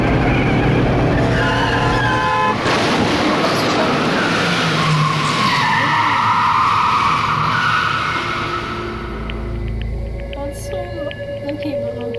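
Loud tire screech of a truck skidding and striking someone in the Danganronpa video game, a sustained squeal over dense game noise that fades into a quieter tail.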